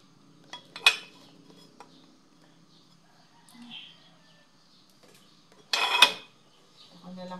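Plates and dishes clinking while being washed in a home kitchen, two sharp clattering knocks of crockery set apart by quiet moments, with small scrapes and faint household sounds between.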